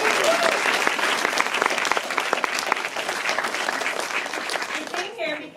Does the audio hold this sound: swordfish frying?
no